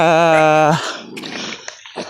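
Dogs at a campsite, one giving a sustained harmonic whine or howl-like yelp up close for under a second, followed by scattered lower barks and rustling noise.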